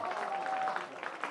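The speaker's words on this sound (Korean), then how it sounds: "우리 하나님 앞에 감사의 박수 한번." A church congregation claps in thanks, a brief, fairly faint patter of applause with a thin tonal hum running underneath.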